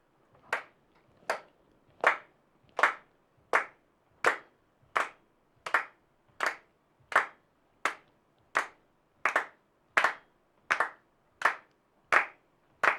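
Hands clap a slow, steady rhythm, about twenty crisp, evenly spaced claps, close and alone in a quiet room.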